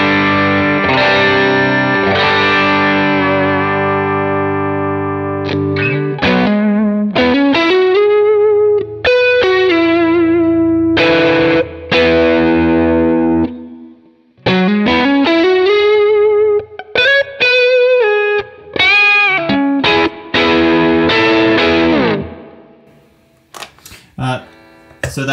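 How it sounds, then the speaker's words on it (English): Electric guitar through a Morning Glory low-gain drive pedal on a worship pedalboard plays a sustained chord, then a run of picked notes and bends, loud and up close with reverb tails and brief pauses, with no talking. "starting out with the Morning Glory, I use this kind of as a lower gain drive"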